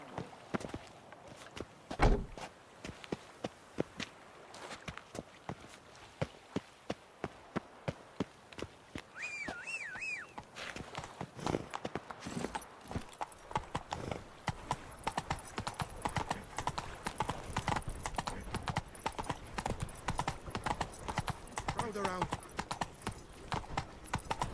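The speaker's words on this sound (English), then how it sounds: "Whoa there, Roach." Horse hooves clip-clop in Witcher 3, a steady walking rhythm of clear hoof strikes that quickens slightly, with a whinny and game ambience around it and no talk over it.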